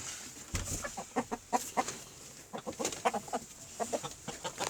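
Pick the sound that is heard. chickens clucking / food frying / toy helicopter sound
chickens clucking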